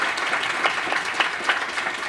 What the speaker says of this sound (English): Another round of applause is a good way